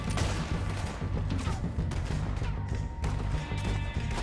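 Rapid gunfire in the video game Red Dead Redemption 2, dense overlapping shots and crashes over constant game ambience and music, loud and continuous without speech.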